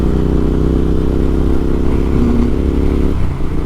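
Royal Enfield Interceptor 650 twin pulling away, a loud, close steady engine drone with rising pitch as it gets under way, dropping slightly near the end, no voices over it.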